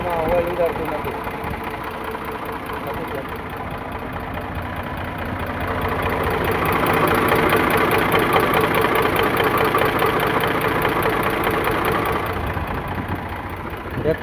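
An Eicher 485 tractor engine idles with a steady, close, low rumble and rapid rhythmic knocking throughout, swelling slightly in the middle; someone talks over it.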